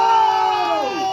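At an outdoor music concert during a town fair, a loud crowd cheers and shouts for the band's bassist in a short, close, voice-heavy burst.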